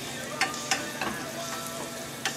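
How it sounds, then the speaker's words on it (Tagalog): Garlic sautéing in butter in a hot pan gives a steady, close sizzle broken by a few sharp clicks and scrapes of a stirring utensil, with no talking. "Lalagay natin ang ating bawang. Lalagay natin sa bawang, igigisa natin."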